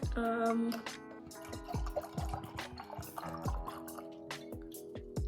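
Barefoot wine pours into a glass with gurgling, dripping liquid sounds and small clinks, close by and fairly steady over a few seconds.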